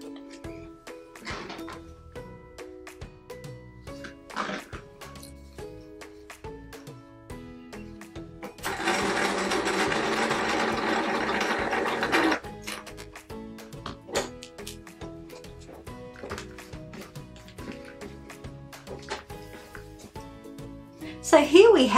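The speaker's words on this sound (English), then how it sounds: "It is now time to stitch the two halves together and give it a final press." A sewing machine runs in one steady burst of about four seconds as two quilt square halves are stitched together, set between softer clicks and handling noises, close by.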